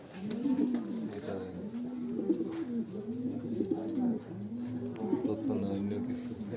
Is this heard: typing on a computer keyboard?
no